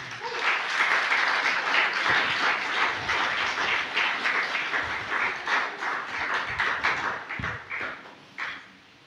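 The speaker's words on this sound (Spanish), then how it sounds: "¿Por qué no le da un aplauso al Señor, hermano?" Church congregation applauding together during a Spanish-language sermon, a dense, sustained wash of hand claps filling the room for about nine seconds before thinning out near the end.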